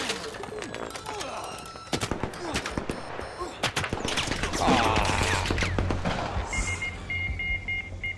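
Gunfire in the shooter game Battlefield 6, with bursts of sharp shots scattered through the stretch, some rapid and close, over game ambience and electronic beeps near the end.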